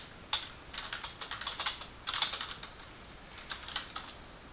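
Fingers type on a computer keyboard in quick irregular bursts of crisp, close key clicks with short pauses between runs.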